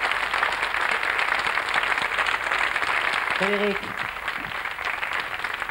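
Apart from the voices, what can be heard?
audience applause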